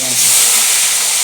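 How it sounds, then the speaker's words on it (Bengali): Prawns frying in hot oil in a wok, a steady loud hiss and sizzle that holds evenly throughout the short moment with no voices over it. "প্রথমে কড়ায় তেল দিয়ে আগে চিংড়ি মাছগুলো ভেজে তুলতে হবে"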